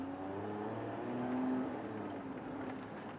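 A Lotus Emira sports car pulls out onto a race track in regular mode, its engine a faint, distant steady hum with a slight rise in pitch.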